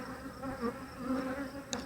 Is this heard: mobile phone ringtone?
no